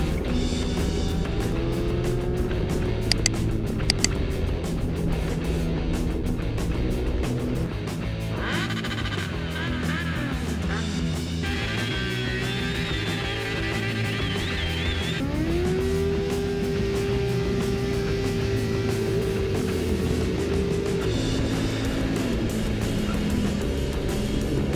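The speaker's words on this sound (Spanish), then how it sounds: "Mi siguiente moto fue una Z800 verde." A green Kawasaki Z800 motorcycle engine runs loud and close for the whole stretch, with sustained droning tones and a steadily rising rev near the middle, and no voices.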